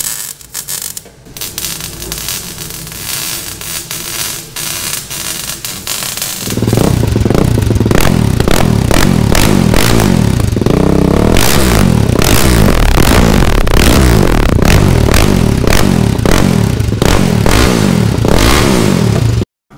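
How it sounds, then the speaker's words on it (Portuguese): A Titan 353 motorcycle engine mounted inverted in a Honda CG revs hard and loud, first a rough idle, then a sustained roaring high-rev run with crackling exhaust pulses, close by and without talk. "Motor invertidão berrando desse jeito."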